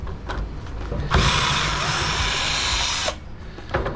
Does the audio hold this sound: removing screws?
yes